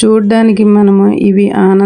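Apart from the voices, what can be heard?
No everyday noises stand out.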